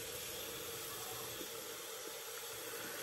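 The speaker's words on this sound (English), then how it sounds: "Let that dry down for just a second while we rinse out our cup." Water runs steadily from a tap into a shaving cup as it is rinsed, a constant soft hiss with faint splashing throughout.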